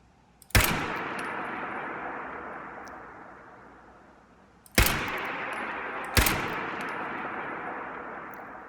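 Three sharp, loud gunshots in the video game Fallout 4, each with a long decaying echo tail, the first alone and the last two closer together.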